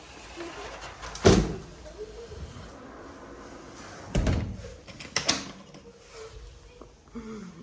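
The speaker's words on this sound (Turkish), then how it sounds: "Kapatıyorum kapıyı." A door shuts with a firm thud, followed a few seconds later by another heavier knock and rattle, with quiet room noise between.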